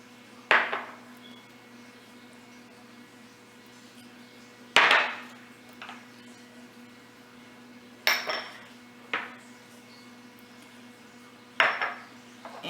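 A very large mixing bowl being handled while spices and oil go in, giving four or five sharp metallic clangs and clinks spaced a few seconds apart over a quiet kitchen hum.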